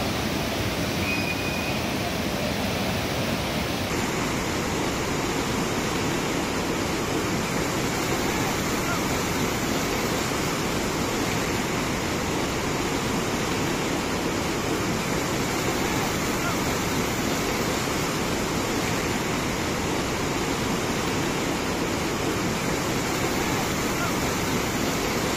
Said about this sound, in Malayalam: കാട്ടിൽ നിന്നും മലവെള്ളം മുത്തപ്പൻ പുഴയിൽ എത്തിയപ്പോൾ